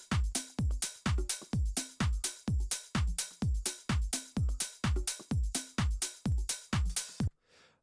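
A saturated drum loop with side-chain pumping: punchy kicks strike in a fast, even rhythm, each followed by a ducking swell, loud and unaccompanied before stopping abruptly.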